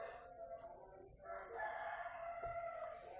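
A rooster crows in the distance for the full stretch, its long warbling call rising and falling under steady low background noise, with no talk over it.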